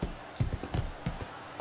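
Horse hooves clip-clopping in the Motion Sports video game's equestrian event, four soft, evenly spaced thuds in a steady trot rhythm at moderate distance.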